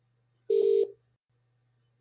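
A telephone dials out during a live call-in broadcast: one steady electronic tone of about a third of a second with a faint hum underneath, then quiet before a new sound begins at the very end.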